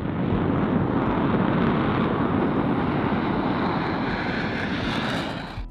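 An Embraer EMB 314 Super Tucano turboprop attack and training aircraft, its engine a loud, steady broadband roar held close for several seconds before easing off slightly at the end.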